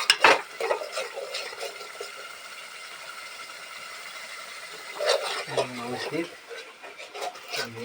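Whole crabs being sautéed in a pan, with rasping scrapes of a spatula and a light sizzle, close by, with brief bursts of louder stirring at the start and around the middle.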